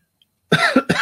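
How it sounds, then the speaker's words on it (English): A man on a knife-discussion podcast coughs three times in close succession, loud and near the microphone, after a brief silence. "You caught me right at the time I had to cough."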